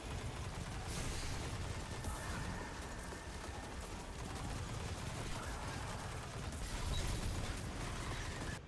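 Rapid, dense gunfire from the Hardlight weapon in the Shattered Realm game, a continuous clattering stream of over-penetrating rounds with mechanical rattle, steady and loud throughout.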